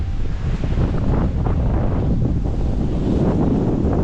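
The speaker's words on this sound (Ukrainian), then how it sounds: "Але добре, гарно працювати, коли такий вітер." Warm wind gusting steadily across the microphone outdoors, a continuous loud low roar with no talk for the whole stretch.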